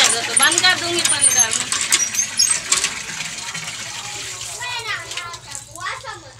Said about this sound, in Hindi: तीन तगारे पानी की इसमें डाल दी हैं